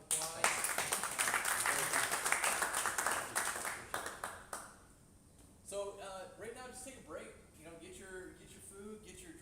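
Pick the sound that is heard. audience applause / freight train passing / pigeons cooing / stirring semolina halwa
audience applause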